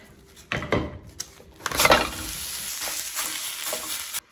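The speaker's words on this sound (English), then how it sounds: "we're gonna fry this, the meat to where it's about 2/3 done" Ground meat sizzles in a pan over medium-high heat while a utensil stirs and scrapes it, giving bursts of crackling and scraping over a steady fry, close up and with no talking.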